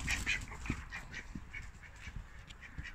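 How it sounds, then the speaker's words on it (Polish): Young ducklings and a young drake quacking in a farmyard with hens nearby, a run of soft, close calls and peeps repeating irregularly over quiet outdoor background. "Mam młodego kaczorka. I mam też młode kaczuszki."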